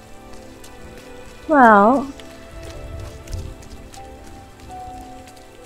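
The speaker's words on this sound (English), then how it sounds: "here's the rain" Steady rain falls in the game Rime, a soft, even patter of drops that holds through the whole stretch. Someone briefly speaks over it, and a melodic tone sounds once partway through.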